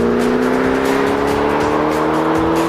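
A 2008 Ford Mustang Shelby GT500 under hard acceleration, its V8 engine letting out a loud, steady, droning roar that climbs slowly in pitch and stays close throughout.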